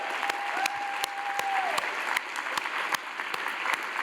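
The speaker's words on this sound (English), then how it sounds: "Please join me in a final round of applause for all of our winners" Audience applauds award winners at a history awards presentation, a steady wash of clapping for about four seconds with a few sharper nearby claps standing out and a brief faint tone in the background.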